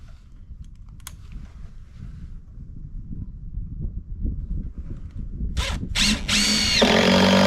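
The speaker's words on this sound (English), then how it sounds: "Boy, that is some tough driving. Big screws and tough wood." A power drill drives big screws into tough wood while a barn floor is being repaired, with a low labouring motor grind throughout and sharper high-pitched bursts near the end, fairly close.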